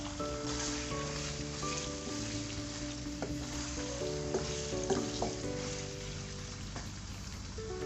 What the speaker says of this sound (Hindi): मैं इसके अंदर चिकन डाल रही हूँ।